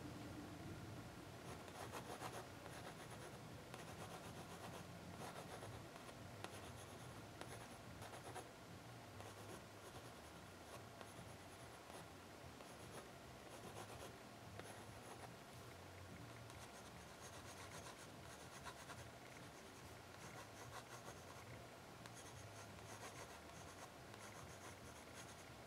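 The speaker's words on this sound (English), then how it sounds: "you can see that I'm doing lots of little sketchy lines" Pencil sketching many small, quick lines on paper, a steady soft scratching and rubbing that continues close up throughout, with no talking.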